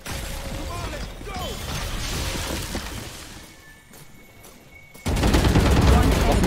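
Rapid gunfire bursts in the Valorant shooter game, dense and loud through the first half, easing briefly, then a sharp louder volley after five seconds, with some voices under the shots.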